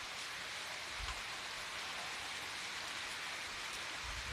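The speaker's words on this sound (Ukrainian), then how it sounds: "Так що йде нас дощ." Steady rain pours down without pause, a dense even hiss of drops hitting surfaces, with no voices.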